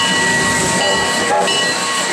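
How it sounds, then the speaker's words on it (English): A steam locomotive at a Great Western steam-up event gives off a loud, continuous hiss of escaping steam close by. It holds steady for about two seconds with a few brief shifts in tone, and no one speaks. "Look at that fabulous locomotive."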